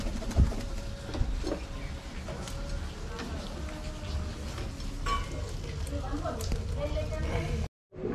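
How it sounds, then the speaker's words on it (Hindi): Pigeons at a loft coo and flutter through a steady, busy background, with a man calling to the flock and faint rain-like patter. "देखो सारे के सारे कबूतर एक साथ एंजॉय कर रहे थे ना"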